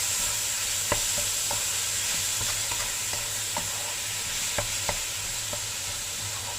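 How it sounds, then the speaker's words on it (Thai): Aromatic larb spices for a northern Thai fish larb being stir-fried in a pan, with a soft continuous sizzle and a few sharp spatula taps at irregular intervals. "ผัดให้สุกนะคะ"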